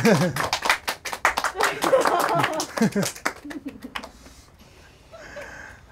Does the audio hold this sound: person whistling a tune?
no